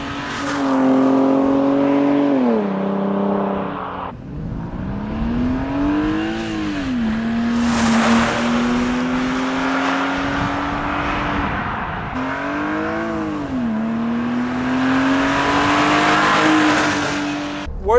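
Mercedes C36 AMG and BMW M3 engines rev loudly in turn, pitch climbing and falling through several throttle blips, with brief pauses between runs and no talking.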